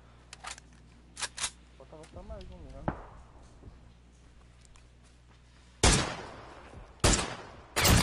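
Rifle gunshots from the PUBG shooter game on PS4, with sharp isolated cracks and a couple of loud close bursts near the end, over background game sounds and someone talking.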